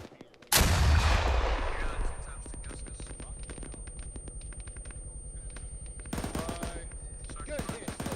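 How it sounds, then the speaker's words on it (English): A rocket launcher fires in a military video game with one loud, close blast and a long rumbling decay, followed by scattered rapid gunfire and a later flurry of shots, with faint voices underneath. "Clear back blast. Clear. Rocket, rocket, rocket."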